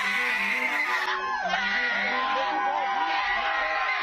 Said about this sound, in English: she's literally screaming at a pastor while he is preaching